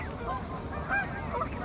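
A large flock of geese at feeding time honks in a dense, overlapping chorus, with a few sharper calls standing out over the steady background clamor.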